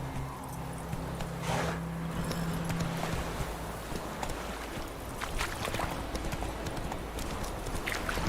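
Hooves of Roach, the horse in The Witcher 3, pounding in a fast steady gallop at close range, with a brief snort early on and some splashy ambient game sound underneath.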